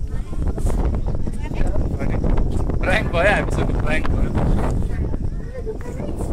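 Wind buffets the microphone at the Tarkeshwar view tower, a loud continuous rumble with gusty swells, while people talk over it throughout.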